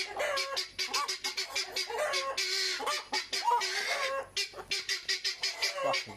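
Hens squawk and cluck loudly and continuously at close range, a rapid string of shrill, overlapping calls with no pauses.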